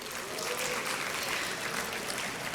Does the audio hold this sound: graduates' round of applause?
yes